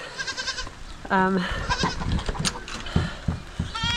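Goats on a New Zealand homestead bleating at feeding time, several short wavering calls close by, mixed with people talking and calling.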